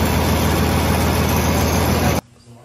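A loud, steady tractor engine, a 7800, rumbles close by for about two seconds, then cuts off abruptly, leaving quiet background.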